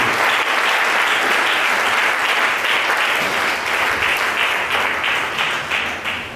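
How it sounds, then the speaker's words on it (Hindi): Church congregation claps in thanks at a Hindi-language worship service, a dense, steady wash of applause at close range that holds throughout and tapers slightly at the end, with no voices over it. "धन्यवाद की ताली देंगे, समझ करेंगे।"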